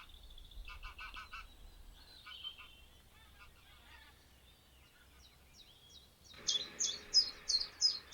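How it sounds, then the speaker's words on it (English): A chiffchaff sings outdoors in spring, its repeated high two-note phrases coming clearly toward the end, after softer honking calls from passing geese at the start. "And there's a chiff-chaff."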